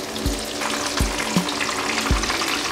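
KFC-style chicken coated in oats and cornflakes fries in hot oil, a steady close sizzle broken by a few soft knocks as the pieces are moved, with no speech.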